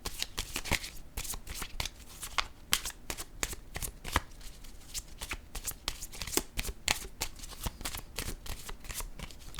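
Cards are shuffled for a card reading, a close, steady series of crisp riffling flicks and soft slaps repeating throughout.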